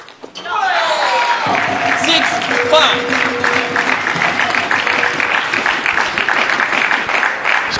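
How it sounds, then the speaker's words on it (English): Cheers and clapping fill an indoor hall during a women's team table tennis final at the SEA Games, a loud sustained wash of applause with a commentator's voice talking over it. "cheers and clapping from both teams"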